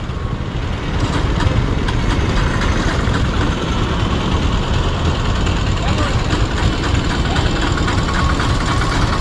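A Bajaj Pulsar P150 motorcycle's self-starter cranks repeatedly with a steady whirring grind, close and loud, never catching into a running engine.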